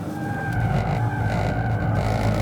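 A Genesis G70 2.0T engine drones at full throttle on a track, a steady loud rising hum with a whining tone over road rumble, no voices.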